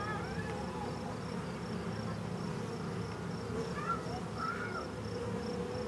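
Honey bees buzzing steadily around an open hive during an inspection, a continuous close drone with a few higher whines passing by, crows cawing faintly in the background.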